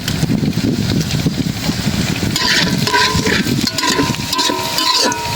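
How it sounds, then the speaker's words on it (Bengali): Dried chillies dropped into hot oil to temper leafy greens in a home kitchen, giving a steady close sizzle and crackle with some stirring scrapes throughout, no talk. "এখন হলো শাকটা বাগার দিয়ে দেবো। এখন দিয়ে দেবো কয়েকটা শুকনো মরিচ।"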